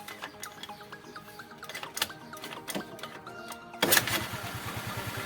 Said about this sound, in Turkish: Şimdi motorumu çalıştırmayı deneyeceğim.